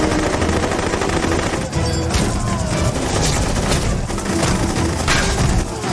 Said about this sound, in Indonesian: Lalu senjata yang sudah dipasang membombardir Velay dan anak buahnya.